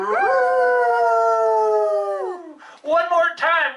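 People imitate a dog by howling together, one long sustained rising-and-falling howl followed by shorter, broken howls and yips, loud and close with no spoken words.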